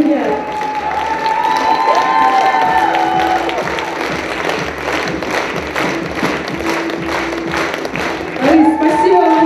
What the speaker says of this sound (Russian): Чтобы согреть в овациях этого человека талантливейшего, который делает такие замечательные песни.